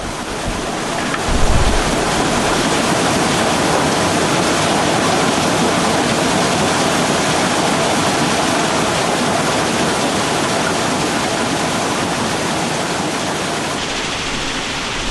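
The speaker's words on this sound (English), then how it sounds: "From the regrind bunker, you can see the material flowing into a regrind crusher." Crushed granite pours from a regrind bunker into a regrind crusher at Graniterock's A R Wilson Quarry, a loud, continuous rushing roar like heavy water that holds steady throughout with no voices.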